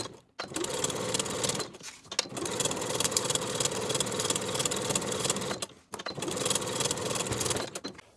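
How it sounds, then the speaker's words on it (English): A sewing machine runs in three sustained bursts, basting along the pocket edges of a fabric weekender bag, its rapid needle rhythm loud and close, with brief pauses between runs. "Baste along the edges."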